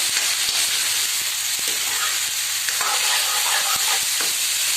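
Sliced onion and green chili sabzi fries in a pan with a loud, continuous sizzle, broken by frequent stirring scrapes and taps throughout.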